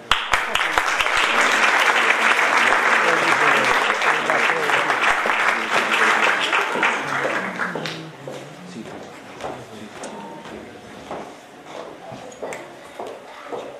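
Loud audience applause for a theatre company at a theatre festival awards ceremony, dense clapping for about eight seconds before thinning into scattered claps and murmur.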